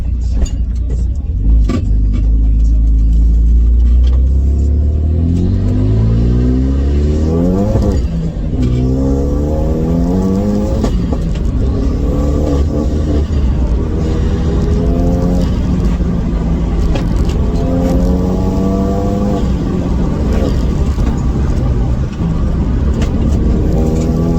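A Renault Megane RS250 track car with forged hybrid engine accelerates hard on a wet local road, engine note rising through several gears with shifts between pulls, loud and close from inside the cabin, with someone talking over it.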